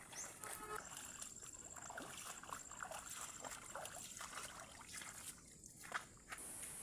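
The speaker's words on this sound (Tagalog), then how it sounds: "dahil nga po sa maraming tubig dito sa sapa at napakalinaw pa" Clear water runs in a shallow creek with a steady trickling, splashing rush, close by and continuous, with occasional louder splashes and a faint high tone.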